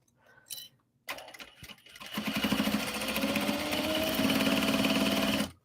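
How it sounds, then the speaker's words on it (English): A sewing machine stitches an obi and kimono clutch wallet: a few handling clicks, then a steady, close, fast mechanical whir that runs for several seconds before stopping. "I'm going to start sewing in the middle again"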